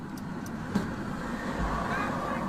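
Cars driving along a road, a steady nearby whoosh of traffic and engine rumble that holds for the whole moment at moderate level.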